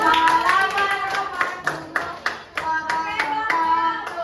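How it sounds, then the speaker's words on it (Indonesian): Audience clapping at a Muhammadiyah primary school presentation in Perumnas: a fast, uneven patter of hands across the whole stretch, with tonal voices or music sounding beneath the claps. "kasih tepuk tangan untuk"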